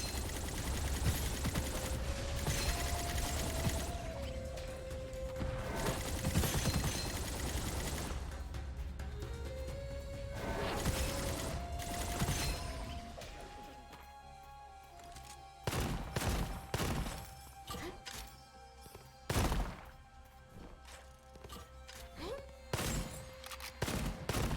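A worm enemy acting as a turret fires rapidly in the video game Gunfire Reborn, long dense volleys and sharp separate bursts over rising tonal game sounds.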